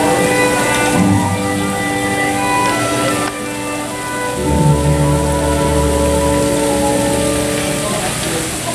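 Steady rain sound effect patters on a surface at a dinner show, a dense hiss with low rumbling underneath and music-like tones running through it.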